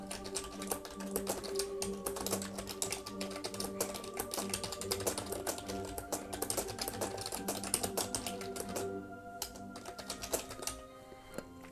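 Rapid typing on a computer keyboard: dense, irregular clatter of key taps running steadily at close range, with a brief lull near the end before a few final taps.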